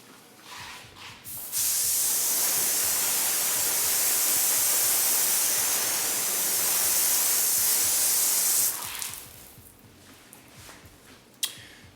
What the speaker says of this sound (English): let's go ahead and give it a slight mist again and see how well these bead